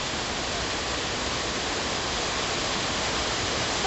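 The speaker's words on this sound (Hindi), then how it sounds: "तो हम लोग अभी चांदनी वाटरफॉल में हैं" Chandani waterfall in Kota, Chhattisgarh, roars as a loud, steady wash of rushing water that fills the whole clip without a break, close by and with no voices.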